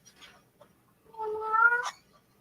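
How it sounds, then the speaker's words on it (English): A cat gives a single drawn-out meow, close and fairly clear against a quiet room, preceded by a few faint soft noises. "you guys are going to hear the cats now"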